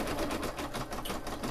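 A Brother Innovis 1250 embroidery machine stitching out a design, a steady rapid mechanical chatter of needle strokes running continuously at close range with no talk.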